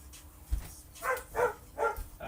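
A dog barks three times in quick succession indoors, moderately loud and fairly close, after a low thump.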